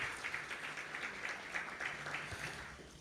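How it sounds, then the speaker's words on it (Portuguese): Brief, quiet audience applause at a church testimony event, a soft continuous patter of many hands heard at a distance. "Nós queremos recebê-los com um aplauso."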